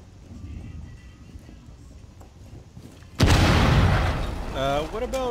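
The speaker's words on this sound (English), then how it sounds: "I just heard explosion to the west." A sudden loud boom in the video game Rainbow Six Siege cuts through low background chatter, followed by a sustained rumbling roar and some chirpy, warbling tones as it fades.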